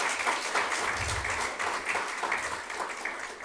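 A crowd applauding steadily at a university communication faculty event, dense clapping that holds at an even level for a few seconds, fairly close.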